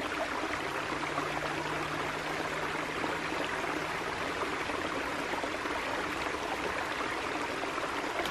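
Water flows steadily along a creek, a constant broad rushing and trickling close by with no breaks, heard alone.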